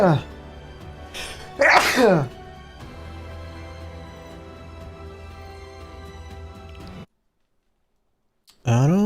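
A single abrupt sneeze, loud and close, rising out of steady background game music with people talking before and after.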